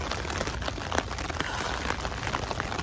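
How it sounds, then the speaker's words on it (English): Heavy rain falling during a mixed snow and rain day while waiting outdoors for a bus, a dense steady hiss of drops pattering on surfaces with no voices. "it is really raining"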